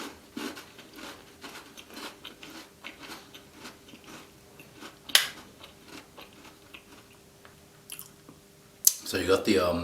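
Crunchy bites and chewing of original Tim Tam chocolate biscuits, with a chocolate coating, chocolate biscuit layers and cream filling, heard as close, irregular crunches and mouth sounds, plus louder rustling near the end.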